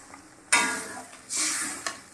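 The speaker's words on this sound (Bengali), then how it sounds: "এবার আমি জল দিয়ে দেবো।" Water poured into a pan of frying katla fish curry masala hisses into a sharp sizzle, two loud bursts of steam and spatter in quick succession, close and without talk.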